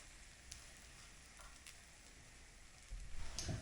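Ravioli frying gently in olive oil in a pan over low heat, giving a faint, steady sizzle with a louder crackling burst near the end.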